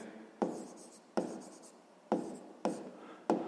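Five sharp pen strokes scratch across paper at a regular pace while working out a sixth-grade math exercise, each stroke starting with a crisp attack and trailing off, close and alone.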